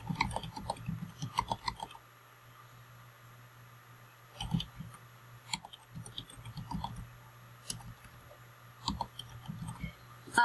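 Faint, close keyboard clicks come in short bursts separated by quiet gaps, like someone typing on a computer keyboard. A low steady hum sits underneath.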